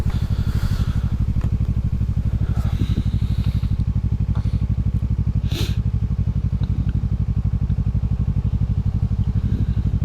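A Kawasaki Ninja 650R motorcycle engine heard while riding, a loud, steady, throbbing exhaust drone with a constant buzzing pulse and a few light clatters on top, and no talk.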